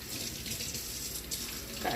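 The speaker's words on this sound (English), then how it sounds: "So we're going to go ahead and wash our hands." Water from a tap runs steadily into a sink as hands are washed, a soft continuous splash heard close by at low level, with a slight change near the end.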